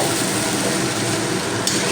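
Chow mein stir-frying in a pan, with a dense, continuous sizzle heard up close and loud, with no talking.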